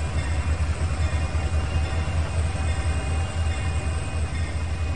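Canadian National mixed freight train pulling away in the Trainz 2019 simulator, a low steady rumble of locomotive and rolling cars, continuous and fairly loud with no speech.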